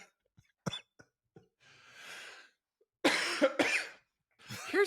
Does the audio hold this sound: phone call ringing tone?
no